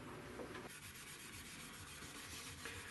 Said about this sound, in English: I'm rubbing it down with steel wool between coats.